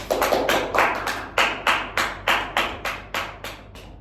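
Children in a classroom clapping together in a rhythmic series of about a dozen crisp, evenly spaced bursts, close and fairly loud with no talk over them.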